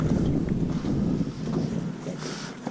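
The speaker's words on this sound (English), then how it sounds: "I tell you, it's a windy day today." Strong wind gusting over a small fishing boat on a lake on a windy day, a loud continuous rumble and buffeting close to the microphone, with no talking.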